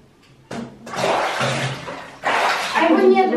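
Water splashing and pouring into a tub for bathing a dog, loud rushing bursts starting and stopping at close range, with a voice talking over it near the end.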